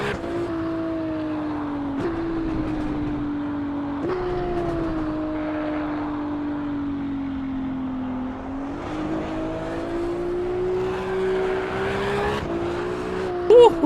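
A Ferrari race car in the driving game Assetto Corsa Evo holds a loud, steady engine drone with its pitch climbing through the gears, a few brief shift dips and light talk now and then underneath.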